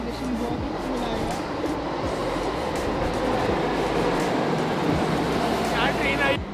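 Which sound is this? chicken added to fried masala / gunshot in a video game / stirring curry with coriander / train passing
train passing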